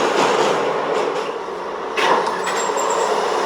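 A New York subway Z train runs with a loud, steady roar of wheels and motors, a sharp metallic surge near the middle and a faint high squeal from the rails afterward.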